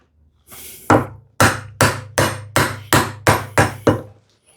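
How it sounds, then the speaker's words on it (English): A chisel is struck repeatedly with a mallet to chop waste from a wooden workpiece, about nine sharp, close, evenly spaced knocks, each with a short ringing decay. "So always using a thinner chisel to take out the material."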